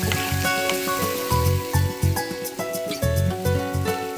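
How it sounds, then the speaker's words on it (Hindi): Onions, one large or two small, frying in a pan for a baghar, giving a steady crackling sizzle with faint pops over background music. "अब हम डालेंगे प्याज, अंदाजन 1 बड़ा प्याज या 2 छोटे प्याज। अच्छी तरह फ्राई करें।"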